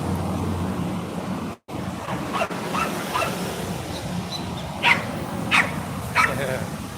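A dog barks a few short, sharp times in an outdoor street setting in Alcala, Envigado, Colombia, over steady background noise with someone talking nearby.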